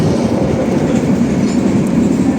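Java Priority luxury passenger train running on rails, a loud, steady rumble with continuous rolling wheel noise and a faint clickety-clack from close on board.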